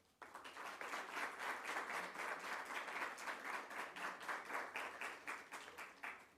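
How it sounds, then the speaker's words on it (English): An audience at a science and technology speaking competition applauds the competing students, a quiet, steady wash of many hands clapping with a subtle rhythmic pulse, heard from a distance. "I want you to join with me in applauding all of the students who will be competing here today."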